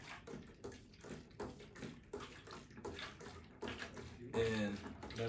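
Water sloshing in the tank of a modified XTERRA ERG600W water rowing machine, faint rhythmic swishing surges repeating about every second, growing louder at the end.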